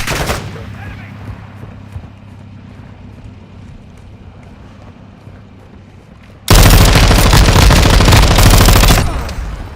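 Gunfire in a video game firefight: a quieter stretch of low rumbling background gives way to a loud, sustained burst of rapid automatic fire lasting several seconds.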